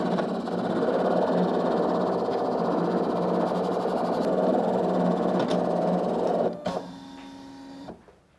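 An electronic craft cutting machine whirs steadily as it cuts paper hearts, a continuous motor drone with faint clicks, then a brief motorized carriage movement with a rising whine before it stops; close, no talk.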